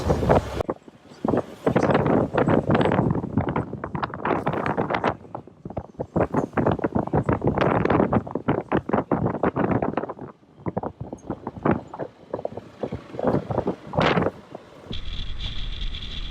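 Strong wind buffets a small boat at sea, a loud roaring rush of gusts and microphone wind noise that surges and dips throughout, close and overwhelming.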